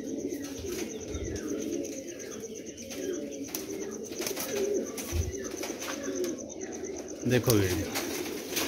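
Pigeons coo in low bursts amid a busy loft, with a person speaking briefly in Punjabi-Urdu and a few sharp rustles and wing flutters.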